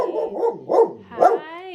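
A puppy gives three short, close barks spaced evenly apart, each with a slight whine at the end, and then lets out a rising whimper.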